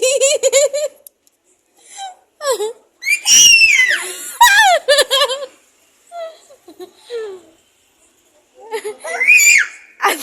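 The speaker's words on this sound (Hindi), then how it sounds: "क्या तो जोर चिल्लाउची" A child screams loudly in repeated shrill bursts mixed with giggling and laughter, close and piercing with short pauses between outbursts, while other voices chatter nearby.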